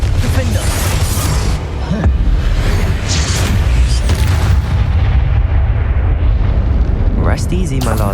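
Hogwarts Legacy spell blasts: loud, dense magical bursts and booming impacts from Incendio and Confringo fill the scene continuously, with a heavy low rumble and crackling energy throughout.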